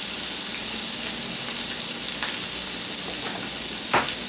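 Wet shrimp frying in hot oil with a little salt, a loud, dense, continuous sizzle and crackle with a few brief stirring scrapes, close up and without talking.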